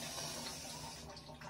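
Water runs steadily from a kitchen tap, a faint, continuous hiss with no breaks.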